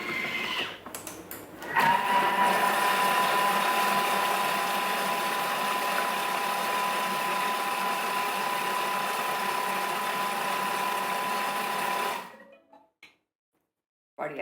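A Thermomix runs on speed 5 mixing pancake batter, a steady whirring motor hum with a faint whine that holds for about ten seconds before cutting out, close and alone.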